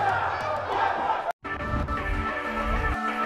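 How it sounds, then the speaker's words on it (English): Arena crowd cheering and chattering in the WWE 2K18 wrestling game, a loud continuous roar that cuts out briefly mid-clip, with commentary voices over it. "We've got an animated crowd here tonight"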